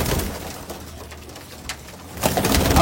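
Abluk pigeons of the Nager Gola type in a home loft collection coo, low murmuring calls over a steady noisy background that swells louder near the end.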